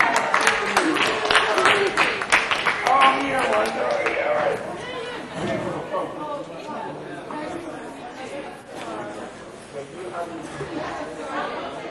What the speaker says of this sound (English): give a round of applause for yourself for coming tonight